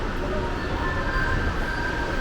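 Seattle's 1962 monorail train running along its track, a steady rumbling roll with a faint high whine, close and continuous with no talk.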